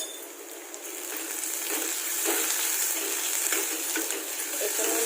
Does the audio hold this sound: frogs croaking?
no